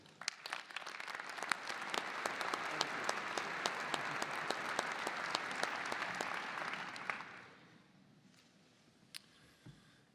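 A commencement audience at Purdue University applauding, dense sustained clapping from a large crowd for about seven seconds, then fading to scattered claps and room noise.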